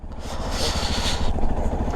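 A Royal Enfield Himalayan motorcycle rides along an icy mountain road in Sikkim, its engine thumping in a steady low pulse close by, with a rough scraping hiss from the tyres on the surface.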